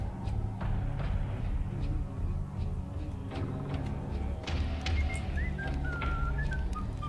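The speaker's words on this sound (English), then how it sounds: "More people whistling." In the Max Payne video game, people whistle a wavering melodic tune over a dense, steady low game ambience, the whistling growing clearer and more sustained toward the end.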